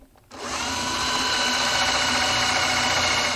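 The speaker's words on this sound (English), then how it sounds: "we can drill those out, being very careful not to drill through to the front of the frame" A power drill drilling hinge holes in a shadow box frame whirs to life and runs at a steady, loud, high-pitched whine with no pauses.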